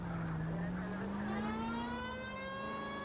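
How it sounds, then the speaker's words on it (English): A police car siren in L.A. Noire, a steady, loud rising wail sounding continuously throughout, layered over a low engine rumble. "You know we've got a siren, Phelps."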